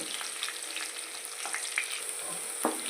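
Dried prawns frying in a pan, a dense continuous sizzle and crackle with small pops, close and steady, with no voices.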